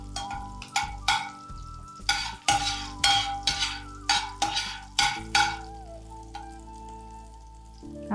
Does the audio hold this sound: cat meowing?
no